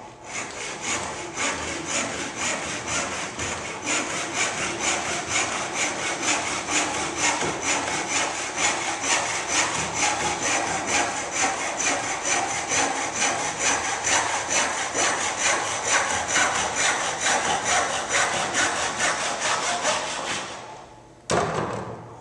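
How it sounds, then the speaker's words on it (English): A brass-backed tenon saw cuts through timber for a half lap joint in rapid, steady back-and-forth strokes, a close rasping rhythm that runs continuously before stopping near the end with a brief knock. "The natural weight of the tenon saw, because of its heavy brass top, will be a driving force down."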